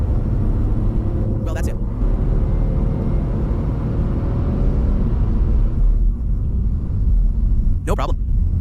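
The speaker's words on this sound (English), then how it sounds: "if I accelerate again, we'll go long curve with some rhythm" A Renault Twingo SCe 65 hp city car accelerates through a long curve, its engine drone and road rumble continuous and fairly loud under a brief spoken remark near the end.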